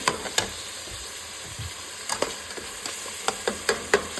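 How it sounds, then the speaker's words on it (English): Ground meat sizzles steadily in a frying pan while a spatula chops and stirs it, producing a series of sharp, irregular scraping taps over the constant hiss. "I just chop it up with my spatula. Just kind of chop that meat up so it get into small little chunks."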